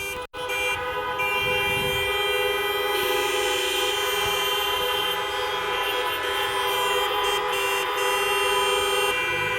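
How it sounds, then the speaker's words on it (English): Many car horns blare together continuously at the Rustival 4 car show, a loud, sustained wall of overlapping tones and toots with no let-up across the whole stretch. "we're about to hear all of the horns"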